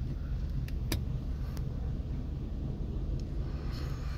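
BMW car engine idling steadily after startup, a low continuous rumble heard close with a few faint clicks over it and no speech.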